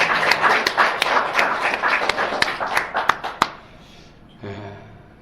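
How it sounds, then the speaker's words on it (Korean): Clapping from a church congregation during a worship service, a burst of sharp hand claps that thins out into a few scattered claps and fades after about three and a half seconds, then a low murmur of voices. "다시 한번 하나님께 영광의 박수 드립시다."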